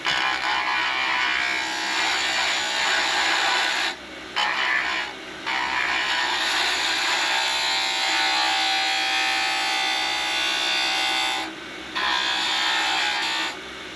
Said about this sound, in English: I don't know why I'm using a spindle gouge for this and not the skew.